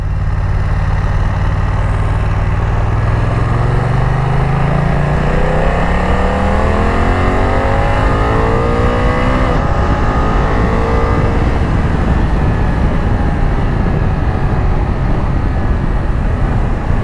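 A Yamaha Tracer 9 GT motorcycle engine on a test ride, loud and close, climbing in pitch as it revs up through the gears in a long rising sweep, with no talk over it.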